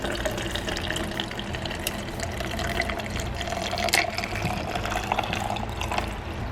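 Iced coffee poured through a strainer into a cup, a steady close trickle and splash of liquid running for several seconds without a break, with no talking.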